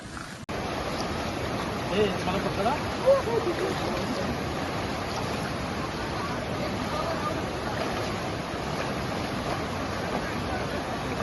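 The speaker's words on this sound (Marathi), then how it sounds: "हा खूप मोठा धबधबा आहे" A large waterfall on a village river swollen to overflowing, giving a steady, dense roar of rushing water that stays loud and even throughout, with a faint voice or two underneath.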